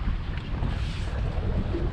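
Strong wind roars across the open sea in murky, choppy conditions near shallows, a steady, loud broadband rush with buffeting on the microphone and no voices.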